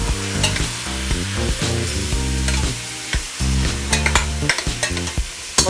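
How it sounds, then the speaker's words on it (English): Mince frying in oil in a pan, a loud steady sizzle with close stirring clatter and sharp scraping hits throughout. "So, a little bit of oil, not too much."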